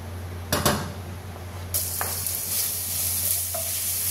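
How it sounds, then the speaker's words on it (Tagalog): Garlic sizzles in a hot pan as vegetable fried rice is started, a steady bright frying hiss with a few utensil clinks and a low hum underneath, no talking. "Igisa na natin siya. Mainit na ang ating kawali."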